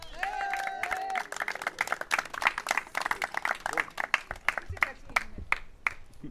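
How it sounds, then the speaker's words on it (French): An audience claps warmly for several seconds, dense rhythmic hand claps from a crowd, with a few voices calling out near the start before the applause thins toward the end. "On va vous applaudir bien fort."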